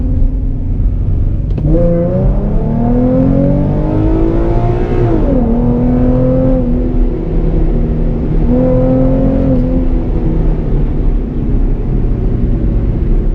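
Tuned 3.7L Ford Mustang with a Borla S-type exhaust accelerating hard in first gear, heard from inside the car: a loud, rising engine roar that climbs in pitch, drops briefly at a shift, then pulls strongly again.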